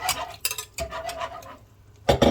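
A spoon scrapes and clinks in a pot as a cream mixture with butter is stirred, with soft irregular strokes and a louder metallic scrape near the end.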